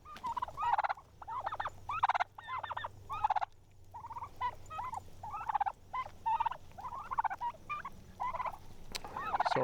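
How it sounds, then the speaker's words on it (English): Turkeys raised on a small farm gobble over and over, bursts of rapid warbling calls tumbling one after another at close range with no talk. "You can hear them, they're making noise all day long."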